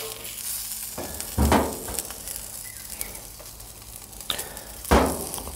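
A burger patty and bacon frying in hot oil in a pan, giving a steady crackling sizzle with a few louder bursts of spitting fat.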